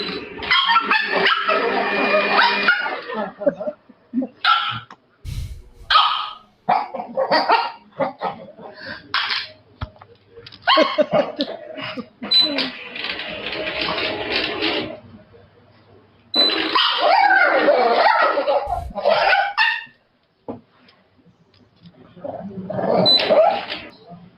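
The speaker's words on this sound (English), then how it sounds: "I think we found the dog" A dog barks, yips and whimpers loudly and almost continuously, in dense overlapping bursts broken by short pauses.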